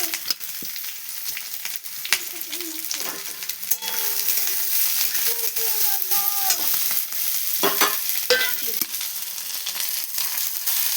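Vegetables fry in a pan with cashews and raisins, a close, steady sizzle broken by repeated scraping and clattering strokes of a spatula stirring throughout.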